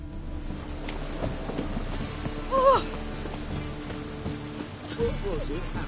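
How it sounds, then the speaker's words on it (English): A rainstorm with thunder in The Witcher game, a steady wash of rain with low rumbles under brief voices and game sounds. "A storm, damn it."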